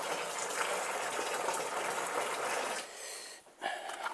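Liquid pours and gushes steadily while a fermenter is being filled, then breaks off into a brief sputter and a few splashy drips near the end.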